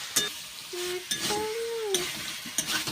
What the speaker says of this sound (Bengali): এইবার ভেজে রাখা আলু আর পটল দিয়ে ভালো করে কষিয়ে নেব।